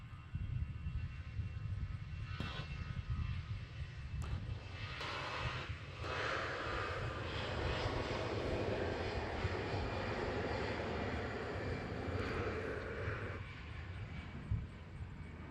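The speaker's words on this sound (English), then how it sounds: "So we'll see Allegiant 4152 departing here, headed to Flint, Michigan in the Together We Fly livery." An Allegiant airliner in Together We Fly livery departing Nashville International Airport, its engines producing a steady, loud roar that holds for the whole stretch. The roar is broad and sustained, with a rumbling low end.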